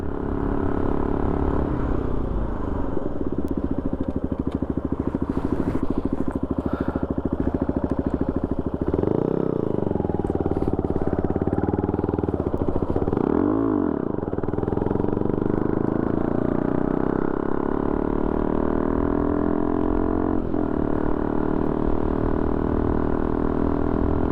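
Benelli TNT 135 motorcycle ridden up through the gears into fifth, a steady droning engine under constant wind rush, with a couple of brief rises and dips in engine pitch.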